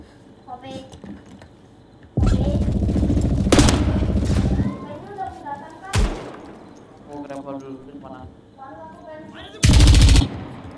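Automatic weapon fire in the tactical shooter Zero Hour rattles out in loud sustained bursts and short separate volleys, interleaved with players talking over voice chat.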